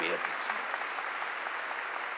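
A church congregation at a Korean sermon claps together in a steady, dense burst at moderate loudness, a short wash of hands without pause.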